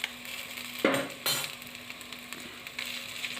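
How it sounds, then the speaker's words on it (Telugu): Chopped onions and chillies stirred in hot oil in a pan: a quiet sizzle underneath, broken by a few sharp scrapes and clinks of the spoon against the pan. "ఉల్లిగడ్డలు ఫ్రై అయ్యేదాకా కలిపిన"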